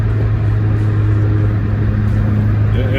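Turbocharged 1987 Acura Integra cruising down the road, with a loud steady engine drone and low hum from inside the cabin and a slight rise near the end, no talking.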